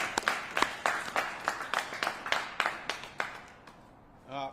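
A small crowd applauds the Milwaukee Fire Department at a ceremony for Engine 14 becoming Engine 414, with distinct separate claps in a loose rhythm that thin out and stop, followed by a brief voice.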